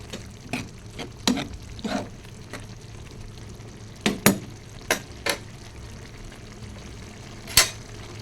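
Green peas get stirred in a frying pan with chili peppers nearby, a spoon scraping and knocking in scattered sharp strokes over a faint, low sizzle, quiet and close.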